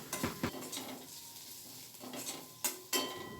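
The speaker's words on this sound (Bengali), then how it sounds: "গোটা 5-6 রসুন টুকরো করে কেটে নিয়েছি, রসুন কুচিটা দিয়ে দিলাম। হালকা নাড়াচাড়া করে ভেজে নিলাম।" Chopped garlic and crushed ginger stirred in a hot pan: a few scraping spatula strokes and clinks against the metal over a low, steady sizzle, close and fairly quiet, with no talking.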